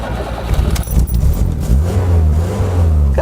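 Small car engine revving up steadily, a strong low drone rising after the first second and holding loud and close, with clattering mechanical noise earlier on and no talking.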